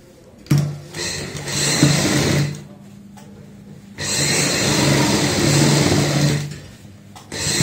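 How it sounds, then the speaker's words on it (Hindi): Sewing machine stitching a handmade travel bag, running in two loud bursts of rapid, steady whirring separated by a brief pause, close up with no speech. "ये हमने सिलाई लगा ली है, ये एक साइड की सिलाई है"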